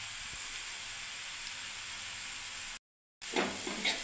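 Flour and chickpea snack frying slowly in a pan over low gas gives a steady soft, even sizzle, then a short cut and a return of the sizzle.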